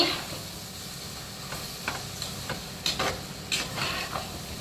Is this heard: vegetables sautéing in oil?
yes